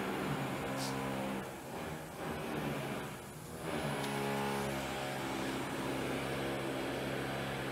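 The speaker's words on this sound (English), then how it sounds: "we're doing a video demonstration of a Cuttermaster end mill grinding machine" A Cuttermaster MG-30 end mill grinding machine with a 1/3 horsepower, 115 volt single-phase motor runs steadily and loudly, its motor hum holding a constant tone with a couple of brief dips, no talking.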